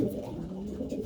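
Racing pigeons coo softly and continuously inside a loft, a brief close murmuring with no talking.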